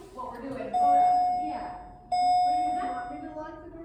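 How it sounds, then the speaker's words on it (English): A hydraulic MEI elevator at a nature center sounds two sustained electronic chime tones, each ringing clearly for over a second, while a person talks over them. "listen to that chime"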